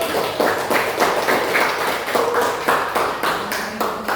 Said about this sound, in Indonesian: Tepuk tangan untuk presentasi